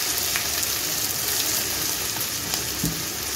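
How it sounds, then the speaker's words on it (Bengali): Potatoes and spice masala sauté in a pan over low-to-medium heat, producing a loud, dense, continuous sizzle heard close up, with occasional soft stirring knocks and no voices. "এখন আমি লো টু মিডিয়ামে রেখে মশলাটাকে কষিয়ে নেব।"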